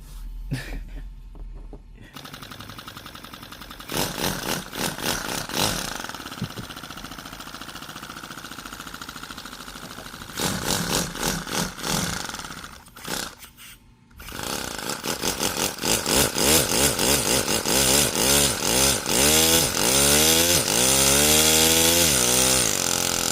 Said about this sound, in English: It sounds like a two-stroke.